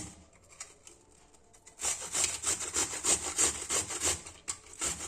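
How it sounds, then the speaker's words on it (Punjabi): Indian gooseberries (amla) are grated on the coarse side of a hand grater for sugar-free murabba, making a steady run of loud, close rasping strokes in quick rhythm after a quieter opening. "ਇਹਦੇ ਵਿੱਚ ਜਿਹੜਾ ਮੋਟੇ ਵਾਲੀ ਸਾਈਡ ਹੈ ਉਧਰਲੀ ਸਾਈਡ ਤੋਂ ਆਪਾਂ ਇਹਨੂੰ ਇਸ ਤਰ੍ਹਾਂ ਕੱਦੂਕਸ਼ ਕਰ ਲੈਣਾ"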